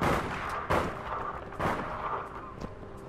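Several gunshots ring out in the APB Reloaded video game, a few sharp cracks spaced about a second apart over a dull background din.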